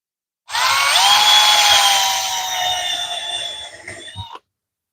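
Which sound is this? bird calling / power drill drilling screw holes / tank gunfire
power drill drilling screw holes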